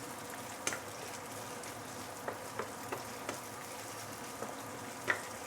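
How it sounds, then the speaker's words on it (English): Galangal fries in hot oil in a wok, a soft steady sizzle close by with scattered small pops and crackles. "I'm putting in the galangal. Once you put in the galangal, you will notice the temperature of the oil, your wok, and the oil will actually drop a bit"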